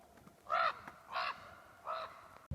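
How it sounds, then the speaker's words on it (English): A crow caws three times in a slow, evenly spaced series of harsh, loud calls outdoors, with faint background noise between them and no talking. "That's a crow."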